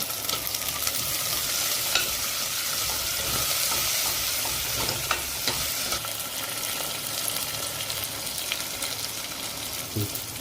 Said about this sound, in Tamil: ரெண்டுத்தையும் சேர்த்து நல்லா வதக்குங்க